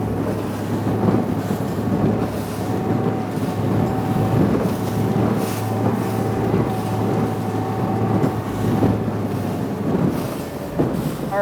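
A Skeeter boat runs through wind-driven waves, with a steady engine drone and a low hum under continuous rushing water, hull slap and wind buffeting the microphone. No one speaks.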